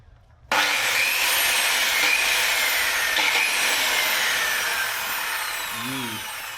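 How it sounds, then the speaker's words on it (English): A Makita power drill starts abruptly and runs steadily for about six seconds with a loud, bright whirring whine, set against wooden flooring work inside a LandCruiser 78 Series. "Just try and just start it a few times. Get used to the torque of the Makita."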